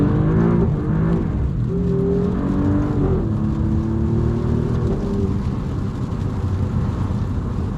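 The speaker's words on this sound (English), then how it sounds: "That V6 sounds fruity" An Alfa Romeo Giulia Quadrifoglio V6 engine hums and rises in pitch with steady revs, close and continuous, harmonics climbing and falling a few times.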